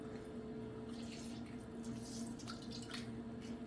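Juice from half a lemon squeezed by hand into a pan gives faint, soft drips and trickles over a steady low background hum.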